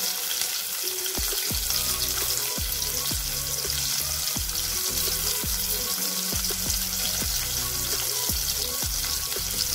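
Thinly chopped green chillies sizzling in hot oil in a pan for vegetable Maggi, a loud continuous crackling fry with frequent sharp pops and spatters throughout, no talking.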